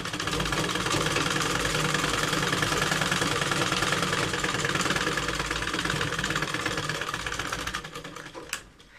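Sewing machine stitching the side seam of a salwar, running loud and steady on and on with a fast mechanical whir, then briefly slowing and stopping near the end.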